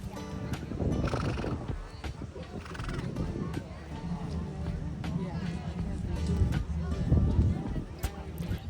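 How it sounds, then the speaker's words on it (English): Chincoteague ponies neigh and whinny at the carnival grounds during the annual pony swim, steady dense herd noise with repeated calls throughout and people talking in the background. "All the ponies made it safely to the carnival grounds."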